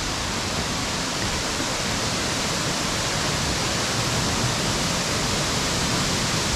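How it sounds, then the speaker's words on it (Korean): Roaring waterfall on the Hansin Valley trail at Jirisan, a steady dense rush of heavy falling water, loud and continuous throughout with no voices. "수량이 많아서 물소리가 우렁차다"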